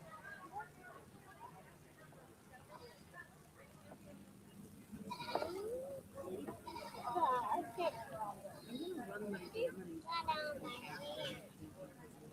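Fainting goats bleat during a county fair goat show, several calls breaking out over a crowd murmur and a public-address voice, with people talking throughout.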